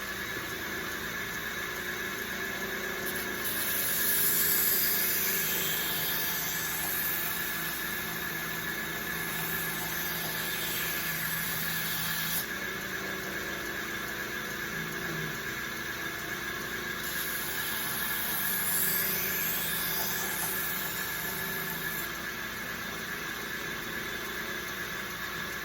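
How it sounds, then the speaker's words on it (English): A belt grinder fitted with a 400 grit belt runs steadily while a knife edge is drawn across it to raise a burr, giving a continuous motor whine and abrasive hiss with scraping passes that swell and fade over about 25 seconds. "We're gonna switch to the 400 grit belt and finish pulling that burr up."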